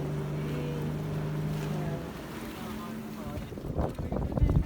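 A small Philippine bangka boat's motor drones steadily with a low hum, then gives way to rushing wind and water noise that grows louder toward the end.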